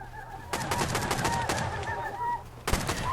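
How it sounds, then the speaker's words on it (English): Gunfire in the video game Rust: rapid bursts of automatic shots and scattered single cracks, fairly faint and distant, with a final sharp shot near the end. "there's some gunfire going down here on the ground"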